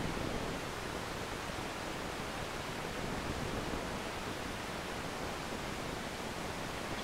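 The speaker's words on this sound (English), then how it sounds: "I'm sort of fishing for good sounding noise effects" A synthesized noise effect with a low cutoff holds as a steady, dense, broadband hiss like rushing static, loud and unchanging for several seconds with no other sounds.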